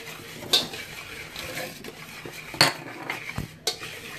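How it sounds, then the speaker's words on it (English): Cornbread batter for hot water cornbread being whisked in a bowl, utensil clinks and knocks against the bowl in a few sharp strikes over a soft mixing scrape. "whisk it really good"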